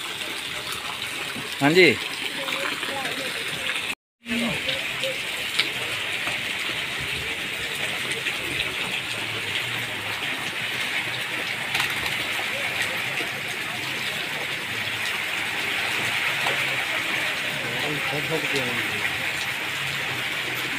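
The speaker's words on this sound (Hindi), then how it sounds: "बहुत ज़्यादा बारिश हो रही है" Heavy rain pours steadily on a town square lined with shops, a dense continuous wash of water noise that holds for the whole stretch, with a brief dropout and a few short spoken words over it.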